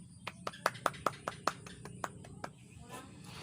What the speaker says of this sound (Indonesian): kita kasih dulu tepuk tangan untuk teman kita yang sudah mengerjakan dengan benar soal yang kakak kasih tadi